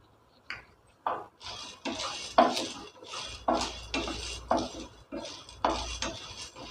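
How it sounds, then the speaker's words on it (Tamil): Chana dal being dry roasted in a pan, tossed and stirred in a steady rhythm of about one rattling scrape per second, each a dry clatter of lentils and utensil against metal, close and fairly quiet. "இப்போ கடலைப்பருப்பையும் ட்ரை ரோஸ்ட் பண்ணி எடுத்துக்கிடுவோம்."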